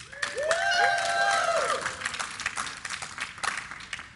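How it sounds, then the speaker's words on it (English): A crowd at a live League of Legends esports match cheers and whoops with rising voices, then scattered applause and claps continue, loud and close throughout. "Let me hear you guys cheer in the audience."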